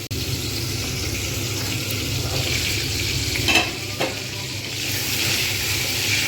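Pointed gourd (potol) fries in a pan with a broad, continuous sizzle. A spatula scrapes through it now and then, and the sound stays close and even throughout.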